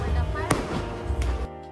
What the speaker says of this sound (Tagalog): Buti na lang may pangalawa pang fireworks